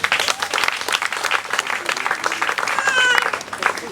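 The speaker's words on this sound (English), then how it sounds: "Can we clap for her?" A gathering for a state poultry scheme claps, a lively, uneven burst of applause from a modest crowd lasting a few seconds, with a brief whistle and voices mixed in.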